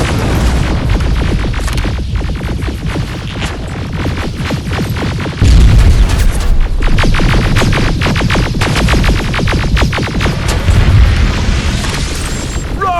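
Rocket blasts in the shooter game Terminator: Resistance come as a loud, continuous barrage of deep booms and rumbling throbs that pile on one another, swelling heavier about halfway through.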